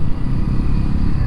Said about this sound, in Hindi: अब हम लोग फर्स्ट गियर पे आ गए हैं, फर्स्ट गियर से अब निकल रहे हैं धीरे धीरे